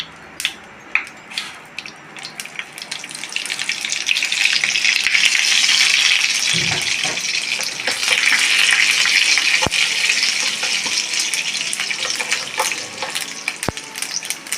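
Mustard seeds splutter in two spoons of hot oil in a pan, a dense, continuous hiss and crackle that swells and stays loud, with occasional sharp pops and clicks close by.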